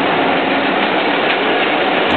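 The Rohi Express train running on a Pakistani railway, a loud, steady broadband roar of wheels and carriages heard close up, unbroken for the whole moment, with no voices.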